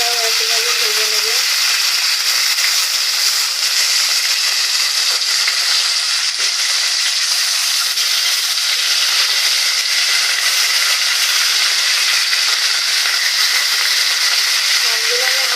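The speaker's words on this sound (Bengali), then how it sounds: "তাই এই টাইমে অপর পাশটাও একইভাবে ভেজে নেবে।" Pieces of Rui fish fry in hot oil in a pan, a loud, steady, close sizzle with a continuous crackling hiss from start to finish.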